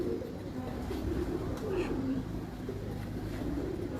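Rooftop pigeons give low, continuous cooing, a murmuring layer of calls close at hand, with no clear talk over it.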